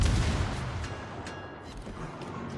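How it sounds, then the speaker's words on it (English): Naval gunfire in a video game: a heavy, rumbling barrage that is loudest at the start, then a steady roll of deep booms with a few sharper cracks, with no voices. "Gunfire's too loud?"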